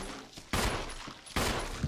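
Two loud, close gunshots in Resident Evil HD, roughly a second apart, each a sharp broadband blast with a lingering tail, with no talking.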